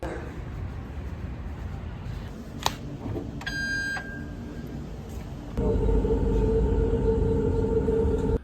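A metro train ride in Riyadh: a steady rumbling cabin with a sharp click, a short electronic chime, then a louder, deeper rolling drone as the train gets under way, heard up close.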